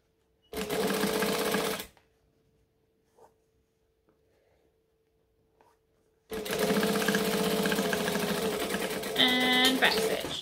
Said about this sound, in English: So I'm going to stitch and I'm going to back stitch.